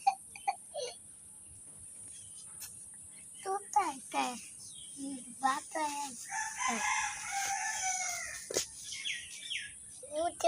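A chicken crows and clucks in loud bursts, with voices talking over and between the calls.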